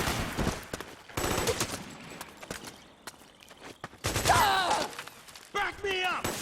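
Bursts of suppressing gunfire from soldiers in Metal Gear Solid 4, rapid automatic shots in several loud volleys with brief gaps and shouted voices mixed in.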